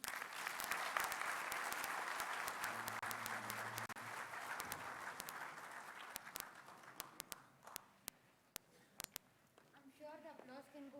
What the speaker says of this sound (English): I'm sure the applause can go louder than this.